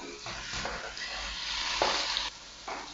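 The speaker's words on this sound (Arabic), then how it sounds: "حتة زبدة أو سمنة، بعد كده هنزل باللحمة على طول." Small pieces of meat hit a hot pan of butter or ghee and fry with a steady close sizzle, broken by a few stirring scrapes and louder bursts.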